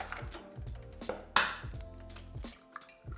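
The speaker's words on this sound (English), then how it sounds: "I'm gonna crack some eggs into this bowl" Eggs are cracked one after another into a bowl for mozzarella in carrozza: soft knocks and shell taps close by, with one sharp, louder crack in the middle, then quieter handling sounds.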